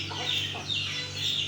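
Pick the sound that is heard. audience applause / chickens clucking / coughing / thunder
chickens clucking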